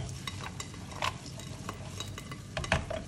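Quick stirring of trofie pasta in a pan, soft scraping and clinks of a utensil over a low sizzling background, with a few brighter taps near the end.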